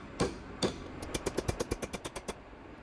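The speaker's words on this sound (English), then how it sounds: "hammer over the anvil horn to curve it" Hot brass is hammered over an anvil horn to curve it, for a knife made from drill bits. Two separate ringing blows give way to a steady run of about ten sharp metallic strikes, close and clear with nobody talking.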